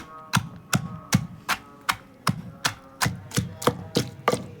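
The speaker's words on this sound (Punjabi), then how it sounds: "ਆਪਾਂ ਹੁਣ ਪਿਆਜ਼ ਵੀ ਚੰਗੀ ਤਰ੍ਹਾਂ ਦੇ ਨਾਲ ਕੁੱਟ ਲੈਂਦੇ ਆ ਜੀ" Onion pounded in a mortar for fresh coriander chutney: about a dozen sharp, evenly spaced thuds in a steady rhythm, close and clear, with no talking.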